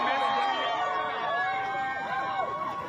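A crowd cheers and applauds for Don Lemon in a steady, dense roar of clapping and voices that holds at full strength across the clip.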